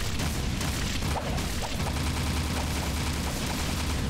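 Rapid bursts of gunfire from the PS5 version of the video game Jak II, dense and continuous with booming hits throughout, loud and alone without speech.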